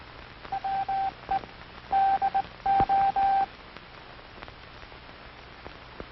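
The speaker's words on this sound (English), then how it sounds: "Listen to the sounds of the key. These sounds are transmitted in International Morse code." Telegraph key sending International Morse code as short and long steady tones in grouped bursts over the first few seconds, followed by faint crackling background noise.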